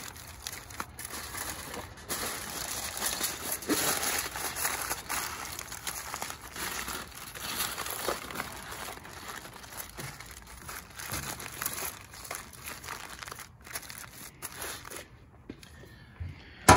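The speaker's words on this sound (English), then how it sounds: "I always use a double wrap" Aluminium foil crinkles and crumples in irregular bursts as a smoked brisket gets a double wrap, quiet close rustling that continues with small pauses throughout.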